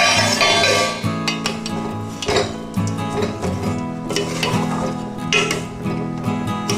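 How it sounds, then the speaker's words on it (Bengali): Rice and lentils stirred in a pot of hot water for Bengali khichuri, a spoon scraping and knocking against the pot in an uneven rhythm beneath steady background music. "জলটা দেওয়ার পর চাল ডাল সব একসাথে একটু ভালো করে নেড়ে নেব"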